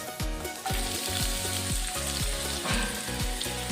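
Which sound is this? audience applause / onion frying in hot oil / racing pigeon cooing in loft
onion frying in hot oil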